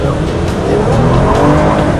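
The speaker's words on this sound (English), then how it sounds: "But squealing the tires." Toyota Venza tires squeal under hard acceleration on a test drive, a loud, continuous rough screech blended with engine roar throughout, with no voices over it.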